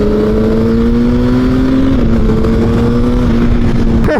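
A Suzuki Bandit 650 motorcycle riding along, its engine holding a loud, steady drone with a slight pitch dip midway, heard close and continuous with wind noise.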